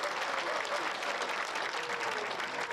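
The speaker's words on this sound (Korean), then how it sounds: "뜨거운 박수를 보냅니다." Steady, dense applause from an audience following a traditional grassland-culture dance performance in Ulaanbaatar, Mongolia, sustained and fairly loud throughout without a break.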